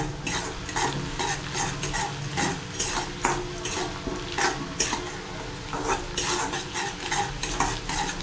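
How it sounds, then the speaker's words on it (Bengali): Onion, garlic, cumin and dried red chilli frying in a generous amount of oil for masoor dal bhuna, with a steady sizzle throughout and repeated scrapes and clinks of a spoon stirring against the pan. "পেঁয়াজটা এই সব কিছু পেঁয়াজ রসুন জিরে শুকনো লঙ্কা সব কিছু দিয়ে আমি একটু লাল করে নেব"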